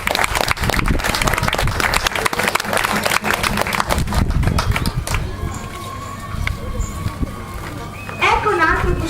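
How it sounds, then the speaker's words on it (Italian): An audience applauds at a parade of ancient Venetian costumes, a loud, sustained wash of clapping outdoors that tapers off as a voice talks over the end of it. "Un applauso a Tasso!"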